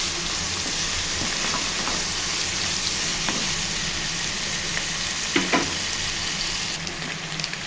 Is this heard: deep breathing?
no